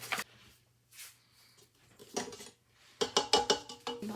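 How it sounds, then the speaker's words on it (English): Cookie dough ingredients for duck-shaped cookies, including flour, are being mixed in a bowl, heard as intermittent scraping and clattering of a utensil against the bowl with quiet pauses and a quicker burst of knocks near the end. "Now we have to mix our ingredients until it combines together."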